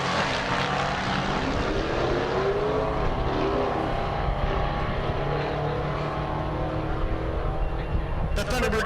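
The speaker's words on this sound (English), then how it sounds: "Next pair, Thunderbird in the left lane, Camaro in the right." A Thunderbird and a Camaro run a drag race on a Kansas dragstrip, their engines roaring in a broad, sustained rumble that swells and drifts in pitch as the cars pull away down the track.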